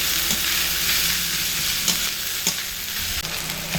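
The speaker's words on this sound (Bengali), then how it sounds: "মশলার মধ্যে এগুলোকে দিয়ে মিনিট 2 সময় ধরে খুব ভালো করে কষিয়ে নিচ্ছি" Beans, carrots and peas stir-fried in a spice mix give a continuous close sizzle, with spoon scrapes and a few clacks against the pan throughout and no voices.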